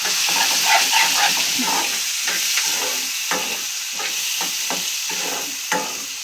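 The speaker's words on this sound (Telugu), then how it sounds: "ఉల్లిపాయలు పచ్చిమిరపకాయలు అయితే వేసేస్తున్నారు" Onions and green chillies fry for an egg curry with drumsticks, a steady hiss and sizzle in the pan, stirred often, each stir giving a short scrape, loud and close throughout.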